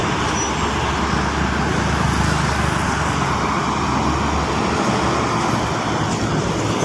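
Steady, dense road traffic in a jam on the Cikampek toll road near the KM57 rest area: a continuous loud rumble of cars, buses and trucks with engines idling and creeping, heard alone without talk.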